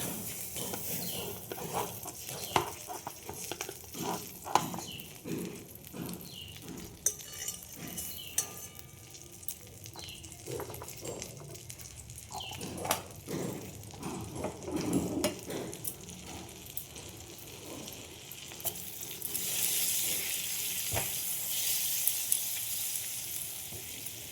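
Butter sizzles and fries in a pan for chow mein, a steady close crackle with scattered clinks and stirring, swelling into a louder, brighter hiss toward the end.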